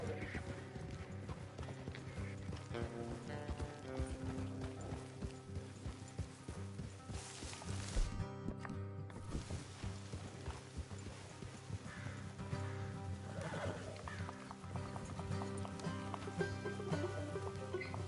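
Steady clip-clop of horse hooves trotting along with creaking gear and a brief whinny, set against a continuous musical score, in the video game Red Dead Redemption 2.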